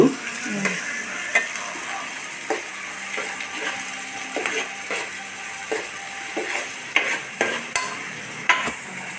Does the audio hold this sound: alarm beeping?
no